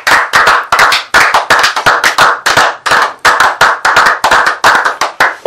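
A congregation claps loudly and steadily in a fast, even rhythm of sharp hand claps during a prayer service, with no voices heard over it.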